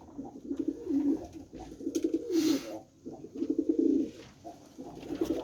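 Vantablack (Vantabilek) pigeons coo in a coop at evening, a female near a top-quality male, with repeated low throaty cooing phrases in steady bursts close by.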